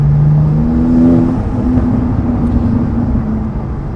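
A BMW G80 M3 fitted with a TFL Italy catback exhaust and non-resonated race pipes drones at a steady, loud idle-to-cruise hum with a slight rise in pitch early on, heard close and continuous.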